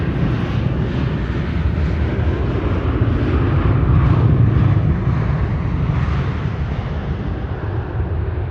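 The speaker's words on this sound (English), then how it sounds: "A321neo, KLM, flight 1002, arriving from London Heathrow" A KLM Airbus A321neo, flight 1002 from London Heathrow, arrives at Amsterdam Schiphol on a winter morning, its engines a steady, loud broadband roar that swells slightly in the middle and holds throughout with no voices.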